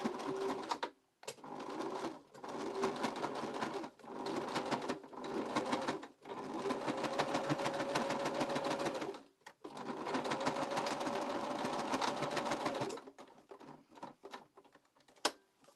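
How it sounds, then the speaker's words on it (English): A sewing machine stitches a seam in scrap fabric for a gift bag, its needle whirring in steady bursts of a few seconds each with short pauses between, close and clear, no talking. "I'm just using width of the foot to give me my seam."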